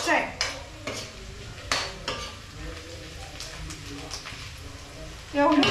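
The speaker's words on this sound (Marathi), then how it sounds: "भाजलाय कांदा व्यवस्थित?" Onion fries in a pan while a utensil stirs and scrapes it in sharp clinks over a low sizzle, with people talking throughout.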